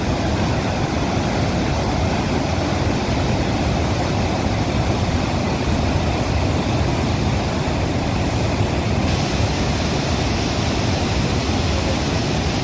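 Flood water pouring over a bridge on the swollen Shivnath river, a loud, steady, broadband roar that runs unbroken throughout with no voices.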